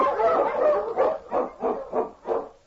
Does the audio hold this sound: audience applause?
no